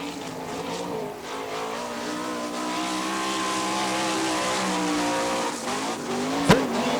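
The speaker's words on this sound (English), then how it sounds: "Now on the track, the 92 of Danny Smith" A sprint race car running a lap at the All Star Circuit of Champions Winternationals in Gibsonton, Florida, its engine a steady, loud, high-revving drone that shifts in pitch through the turns, ending in a brief sharp crack.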